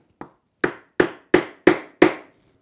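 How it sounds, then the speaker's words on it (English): Mallet blows driving a chisel into wood to chop a socket for a tea caddy joint: one lighter tap then five heavy, evenly spaced whacks, close and sharp, with no talk. "So I don't want to chisel all the way through, just a couple of heavy whacks."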